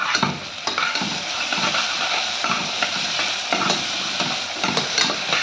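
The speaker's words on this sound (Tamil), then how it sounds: "இப்போ நல்லா வதக்கிக்கலாம்." Ginger and garlic being sautéed in a pan for a vegetable biryani, with a steady close sizzle and repeated scraping stirs of a spoon against the pan throughout, no talking.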